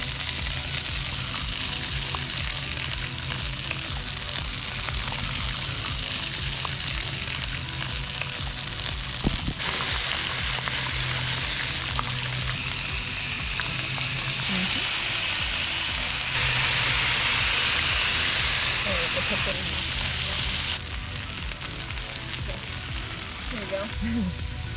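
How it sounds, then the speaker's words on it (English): Pepperoni and prosciutto cook on a Blackstone griddle, giving a steady, close sizzle that runs the whole time, with occasional light clatter of a spatula on the flat top. "We picked 2 of our favorites from an Italian sub, pepperoni and prosciutto, so we're gonna get those on the griddle."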